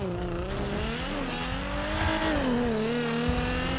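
A car engine in the video game GTA 5 roars steadily as it drives, its pitch rising and dipping with acceleration and gear changes, loud and continuous throughout with no talk.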